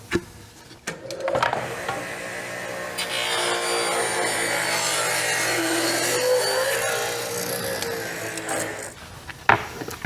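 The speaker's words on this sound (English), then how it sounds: "We're going to use this edge on our table saw, and we're going to take roughly 1/2 inch off." Table saw trimming about half an inch off the edge of a walnut and epoxy resin board: the blade whirs up, holds a loud steady cut for several seconds, then stops with clunks at both ends.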